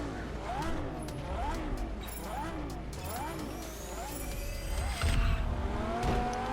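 Car engine in the racing game Test Drive Unlimited revving up through repeated rising gear pulls, steady and moderately loud, with someone talking over it.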